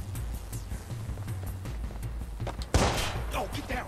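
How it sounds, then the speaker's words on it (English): Scattered gunshots in the Watch Dogs video game, a few sharp cracks rising to one louder blast near the end over a rumbling game background, with a voice briefly present. "Don't you shoot at me."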